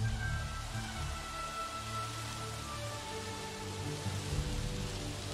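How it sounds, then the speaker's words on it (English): Steady rain falls in the Jurassic World video game, a soft continuous patter on surfaces with a low rumbling ambience underneath, even and unbroken throughout. "But it's raining."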